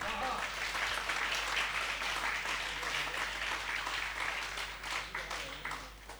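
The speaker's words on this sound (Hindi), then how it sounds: "तालियां ऐसे बजाओ कि कवियों को जोश आ जाए" An audience at a Hindi poetry recital breaks into sustained clapping, a thick wash of applause that thins and tapers toward the end.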